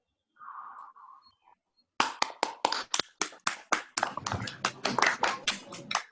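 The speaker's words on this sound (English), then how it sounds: "we'll give a round of applause to Shiva and then some questions" A round of applause for a mathematics lecturer on a video call, starting after a short voice and then uneven clapping from a few unmuted participants, close, loud and separate claps at an irregular rhythm.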